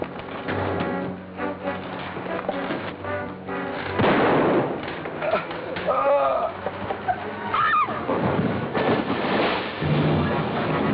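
Gunshot in a 1953 adventure film serial, sharp loud reports amid a busy, muffled old soundtrack with music and voices talking around them.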